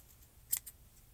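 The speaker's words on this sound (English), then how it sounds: "And then I take my scissors and I just cut that off." A single quick snip of scissors cutting yarn, short and crisp, in an otherwise quiet room.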